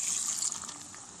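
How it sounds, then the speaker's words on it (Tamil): Water is poured into a pot of Nanjil-style chicken gravy in one short, continuous gush of splashing liquid, close and moderately loud. "2 டம்ளர் தண்ணி இதில் இப்போ ஆட் பண்ண போகிறேன்."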